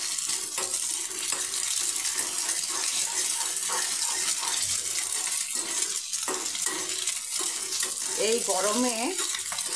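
Egg and drumstick flowers fry on a high flame, stirred and broken up in a pan with a constant close sizzle and scraping, while someone speaks briefly near the end.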